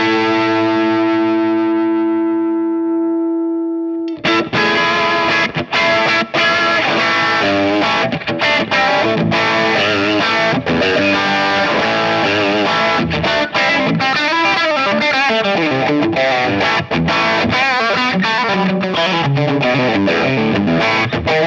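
An electric guitar played through an Origin Halcyon Blue Overdrive pedal: a sustained overdriven chord rings out, then gives way to busy, driven riffs and chords, loud and up close with no talking.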